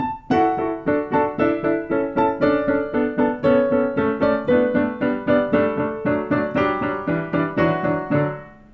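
Piano plays a flowing chord progression from the Antiques Roadshow theme, notes struck one after another in a steady rhythm, clear and close, with no voices.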